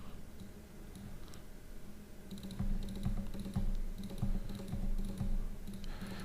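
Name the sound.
computer mouse double clicking and keyboard typing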